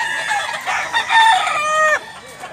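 A rooster crows loudly in one long, strained call over a busy background of clucking chickens at a poultry sale in Mantalungon, Cebu.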